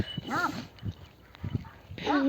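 A dog barks several times, sharp yelps at irregular intervals, fairly close, with a bit of faint background noise between barks.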